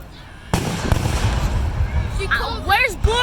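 Red, green and blue fireworks explode at a display, opening with a sharp loud burst followed by crackling and rumbling, then another pop near the end, as excited voices exclaim and talk over them.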